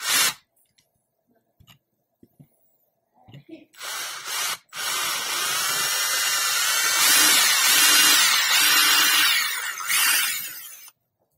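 A small power drill whirs in brief bursts, then runs steadily for several seconds while drilling pinning holes in a miniature model at a workbench, with tapping and handling noises between runs.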